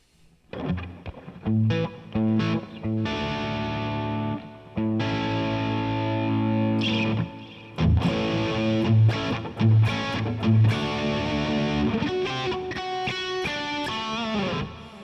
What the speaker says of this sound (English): The pickups in this guitar sound amazing.